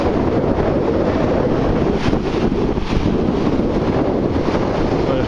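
Ocean waves on a flat black-sand beach, wash and surf rumbling continuously under heavy wind buffeting the microphone, no clear talk.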